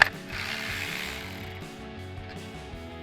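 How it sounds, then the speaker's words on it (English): A ratchet turns an 8mm socket to back out a bolt, making a quick run of close, crisp clicking pawl sounds over about three seconds with no talk. "we're going to grab our 8mm socket on our ratchet"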